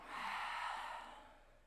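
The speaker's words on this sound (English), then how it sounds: "take a deep breath in through the nose. And exhale, let it go." Slow, deep breath drawn in through the nose and released during a calm yoga session, a single soft airy exhale fading away, close and quiet with no talking.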